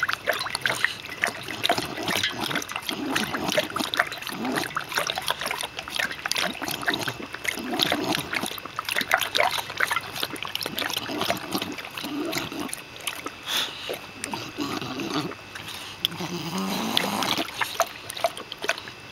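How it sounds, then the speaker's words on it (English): An animal drinks water noisily, with repeated wet lapping, trickling and splashing sounds in irregular bursts, close up and fairly quiet, going on steadily. "Water hog, isn't he, Oak?"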